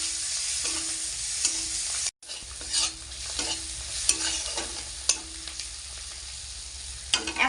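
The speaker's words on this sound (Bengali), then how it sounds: "ধনেপাতা কষা মশলার সাথে ভালো করে মিশিয়ে নেব।" Chopped coriander leaves get stirred into fried spice paste in hot oil for a fish curry, with steady sizzling and repeated scraping strokes of a spatula against the pan, close and clear, briefly cutting out after two seconds before resuming.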